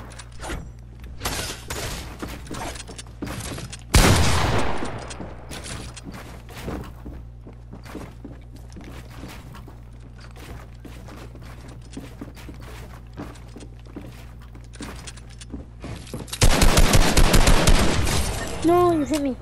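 Fortnite gameplay gunfire comes in two loud bursts of rapid shots, one early and one near the end, with softer footsteps and game mechanism clicks in between and occasional voices.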